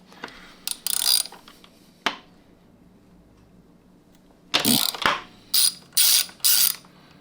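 A ratchet fitted with a 6mm hex socket loosens the shifter bolt on a Yamaha R1 motorcycle, giving several bursts of close, crisp clicking separated by quiet pauses and a couple of sharp knocks.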